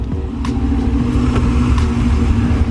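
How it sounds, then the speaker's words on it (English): A car engine idles steadily, a low continuous rumble with a faint mechanical hum, close by and without pause. "Hopefully it's not too loud with the car idling."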